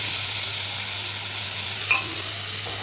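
Ground spice paste frying in a pan for a paneer curry gives a steady, close, continuous sizzle with a faint scrape of stirring near the end and no voices.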